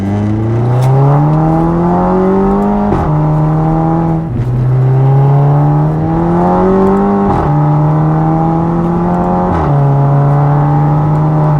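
An Audi TT Mk2 (8J) with a 2.0 TFSI engine rated at 260 hp, only lightly modified, revs up strongly while driving. It climbs repeatedly through the gears with several quick shifts, loud and close throughout.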